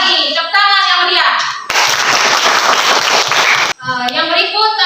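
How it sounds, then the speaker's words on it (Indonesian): Classroom applause from a group of students: about two seconds of dense, steady clapping breaks in between stretches of children's voices, loud and close. "Sekali lagi, tepuk tangan yang meriah."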